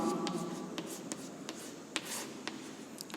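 A pen scratches and taps on paper as physics units are written out, producing short, faint strokes at irregular intervals, close by and quiet, with no talk over them.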